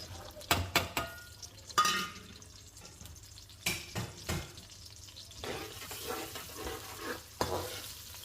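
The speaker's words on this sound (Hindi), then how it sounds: "अब मैं डालूँगी इसके अंदर प्याज" Onions dropped into hot ghee for pulao, a few sharp clatters and thuds followed by a soft, crackling sizzle with occasional stirring scrapes, fairly quiet and close.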